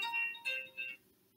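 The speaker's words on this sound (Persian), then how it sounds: "یک تلفن رو میگیریم." A telephone rings for a call-in on a TV program: three short, clear electronic ring tones in quick succession, moderately loud, followed by near silence, with no voices.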